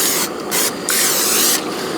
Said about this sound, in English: So we're just going to give it a quick spray.